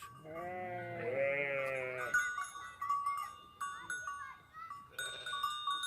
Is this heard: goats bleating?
yes